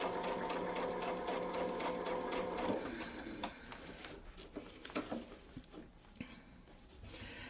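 A sewing machine stitches a small shape along a Westalee Spin-e-fex template, a steady close whir for under three seconds, then stopping and giving way to faint handling taps and rustles.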